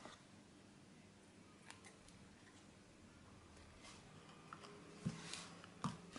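Scissors snipping a ribbon at an angle for a handmade card, two quick close snips near the end after a quiet stretch of faint rustling.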